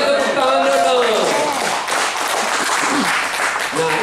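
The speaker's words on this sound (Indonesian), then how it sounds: "Berikan tepuk tangan dulu" A church congregation claps together, the clapping filling the space while a few voices talk and call out over it, rising and thinning slightly toward the end.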